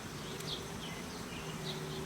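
Honeybee swarm buzzing inside hive boxes, a dense steady droning hum close by with individual bees whizzing past, no voices.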